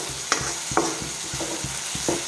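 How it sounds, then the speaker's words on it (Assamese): Fish fries in a pan with a continuous sizzle, broken by regular scraping stirs roughly every half second, close and steady, with no talking. "অলপ টাইম ধুনীয়াকৈ ভাজি আছোঁ"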